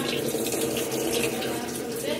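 Water rushes steadily into a Whirlpool washing machine filling in test mode, a loud continuous splashing flow without pause.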